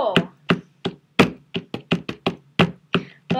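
Knocking at a door: about a dozen sharp, close, solid raps in quick irregular groups, loud and clear with no voices.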